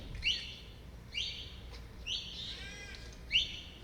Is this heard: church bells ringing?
no